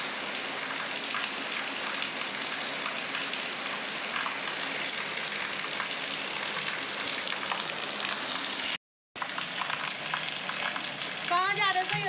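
Steady, dense rain hisses evenly throughout, broken by a brief dropout, with a voice surfacing faintly near the end.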